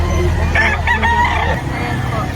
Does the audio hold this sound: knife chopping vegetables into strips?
no